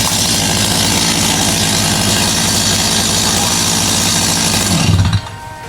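A loud engine revs and runs steadily for several seconds, then cuts off abruptly near the end.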